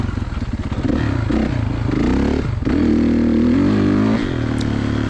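A 2016 Kawasaki KX450 dirt bike engine roars loud and close while it is ridden on a turn track at Johns Peak OHV, surging and revving as the throttle changes, with clatter from the bumps.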